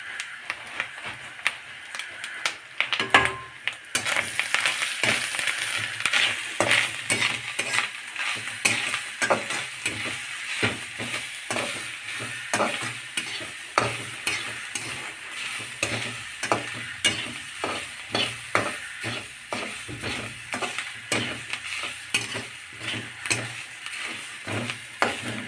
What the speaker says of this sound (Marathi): मस्तपैकी चरचर व्यवस्थित भाजलं पाहिजे खोबरं छानपैकी